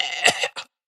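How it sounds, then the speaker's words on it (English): A sharp, harsh cough followed by a strained, gagging burst and a short choking cough, close and loud, then silence. "coughing and choking on the fumes"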